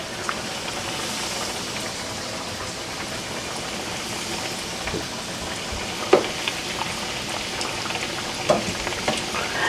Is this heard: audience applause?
no